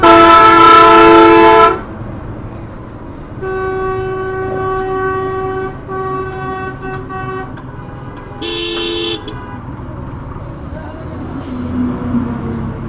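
A loud vehicle horn honks in two long, steady blasts followed by a short one, after a burst of rushing road noise.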